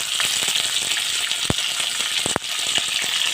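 Green chillies sautéing on low heat in a pan for chicken kali mirch, a steady dense sizzle close by, punctuated by a few sharp clicks and taps of a utensil, no voices.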